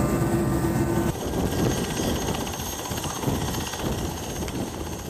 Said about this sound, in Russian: когда наш вертолет коснулся земли и высадил нас здесь